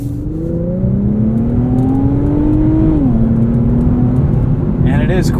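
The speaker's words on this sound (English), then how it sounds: "Lets you rev it out, enjoy the engine just a little bit on the street." A 2022 Infiniti Q50 Red Sport 400 engine revs up steadily from inside the cabin, its drone rising in pitch before dropping at a gear change, loud and continuous with a faint clatter near the end.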